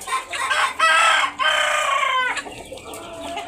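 A hill-breed rooster crows loudly and close by in a couple of drawn-out calls, followed by agitated clucking.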